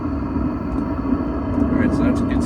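A Velit gasoline heater fitted in a van starts up, its exhaust giving a steady rumbling roar throughout, loud and close, with faint higher hissing near the end.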